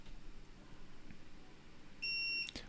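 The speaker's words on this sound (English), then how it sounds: "So when the beep happens, that's it. That means it's booting up." A LincStation N1 all-SSD NAS gives one short, clear electronic beep while booting up, faint over a low background hiss.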